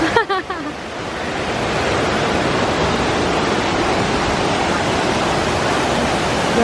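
Waterfall on the Pandurucan trek in Occidental Mindoro, a loud, close, constant roar of rushing water that swells up after a brief quieter moment at the start.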